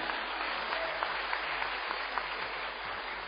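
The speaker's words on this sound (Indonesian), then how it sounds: "Tepuk tangan dulu semuanya." Audience applause at a talk on life and success, a steady, fairly faint wash of clapping with no voices, lasting a few seconds.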